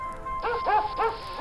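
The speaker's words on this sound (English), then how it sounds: "they heard the sound of a thunderous hound barking in the distance" A hound barking in a children's bedtime story about a fox and a cat, three quick yapping barks in a row, moderately loud over a quiet background hum.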